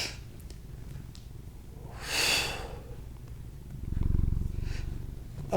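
A soft, steady cat purr rumbles close by, with a breathy snort or sniff partway through and a louder purring swell near the end.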